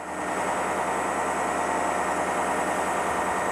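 A bucket truck's heavy engine idles steadily at close range, a continuous low rumble with a broad mechanical hiss, holding level and unchanged throughout without any voices.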